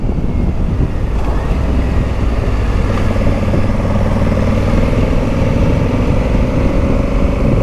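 A 1100cc parallel-twin motorcycle engine runs loud and close, a steady low throbbing drone with no pause and no voices.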